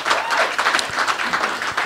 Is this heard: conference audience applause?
yes